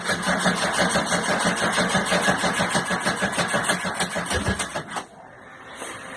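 A VW AP turbo car engine cranks with a fast, rhythmic chugging for about five seconds, then catches and settles into a quieter idle, heard up close.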